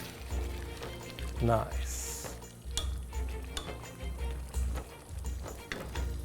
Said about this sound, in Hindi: पहले थोड़ा प्याज डाल दो, प्याज को थोड़ा वक्त लगेगा।